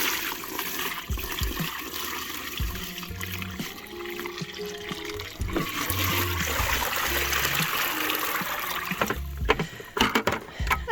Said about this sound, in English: One-handed pour.